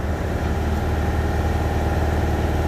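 A cold truck diesel engine roars steadily at high revs with the accelerator floored, loud and close, with a deep throbbing rumble and no voices.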